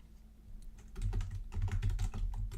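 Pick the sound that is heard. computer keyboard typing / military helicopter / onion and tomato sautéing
computer keyboard typing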